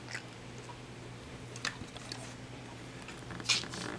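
A dog and a cat chew crunchy snacks, giving soft, close biting and crunching sounds in small irregular bursts over a quiet background.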